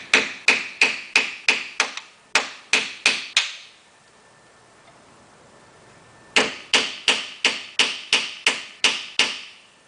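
Hammer striking a screwdriver used as a punch during work on an electric Karmann Ghia EV conversion, two runs of sharp, evenly spaced metallic blows, close and loud, separated by a short quiet pause.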